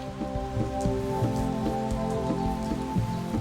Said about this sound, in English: Most of the chimps aren't bothered by this downpour